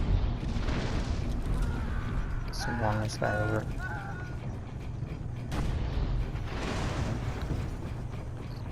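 Cannons boom in the Assassin's Creed video game among deep rumbling and layered game noise. Someone talks over part of it.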